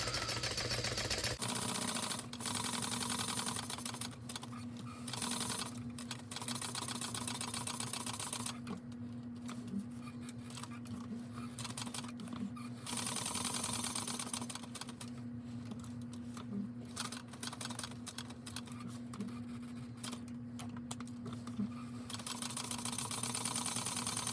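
A sewing machine top-stitches around a hat in steady mechanical runs with rapid rhythmic clatter over a constant motor hum, pausing briefly now and then. It is close and quiet, with no talking.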